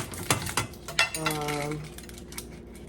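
A knife works through a tough red onion on a board, a few sharp chopping knocks followed by a steadier scraping cut, close and fairly clear with no talk.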